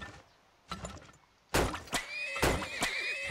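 In the video game Turmoil, horses give loud, close whinnies in several bursts after a quiet start, mixed with a few sharp clattering hits.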